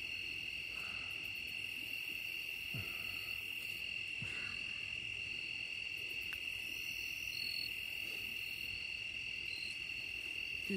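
Insects chirping at night near a light by the water, a steady shrill continuous trill carrying throughout, with faint scattered background sounds and no talking.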